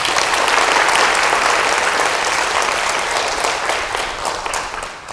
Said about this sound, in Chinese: 来我们给他鼓掌一下